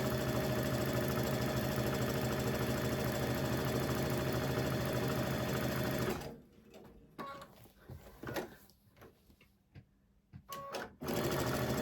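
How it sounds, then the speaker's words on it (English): A sewing machine stitches fabric pieces for quilt half-square triangles, whirring loudly and continuously for about six seconds before stopping, followed by light handling clicks and rustles, then a brief restart. "And I am going to go and sew on both sides."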